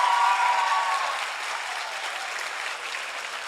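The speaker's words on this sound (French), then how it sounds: "Une bonne main d'applaudissements pour vous." A packed hall audience at a high-school performing-arts show bursts into applause, strongest at the start and then settling into a steady, slightly softer clapping that continues to the end.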